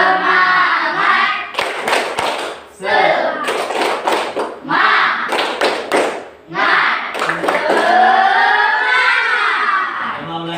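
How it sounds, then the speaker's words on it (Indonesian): A schoolroom class performs a rhythmic group clapping routine, bursts of sharp claps alternating with children chanting loudly in unison, close and energetic. "1, 2, 3. Tepuk semangat."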